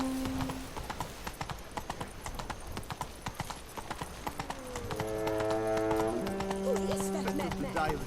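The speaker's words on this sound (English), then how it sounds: "nos trasladamos a caballo con la duquesa" Steady clip-clop of horse hooves while riding in The Witcher 3: Blood and Wine, a continuous trotting rhythm under game music and ambience, with faint voices in the background.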